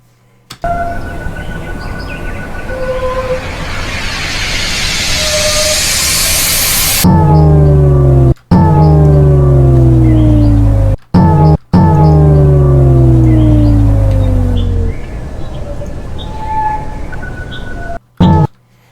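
A hissing white-noise sweep rises steadily in brightness for several seconds, then gives way to pulsing electronic synth chords with descending tones.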